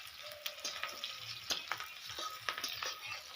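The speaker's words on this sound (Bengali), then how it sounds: "পাঁচফোড়ন দেই, ফোড়ন ফোড়ন দিয়ে একটু ঘাটাঘাটি করি নেই" Panch phoron spices crackle and sizzle in hot oil while being stirred in a pan for a village-style fish curry with potato and cauliflower, with a steady bright frying hiss and sharp scattered pops and scrapes.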